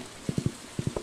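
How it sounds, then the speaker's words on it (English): Horse hooves clip-clopping in the farming game Stardew Valley, two quick bursts of three soft, evenly spaced clops each, clear against a faint background hiss. "Come on, horse."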